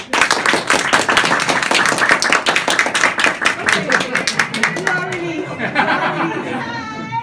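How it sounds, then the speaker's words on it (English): Clapping from a small group with some laughter and chatter mixed in, dense at first and thinning after about five seconds, when a voice and brief whistling tones take over. "can I have a round of applause?"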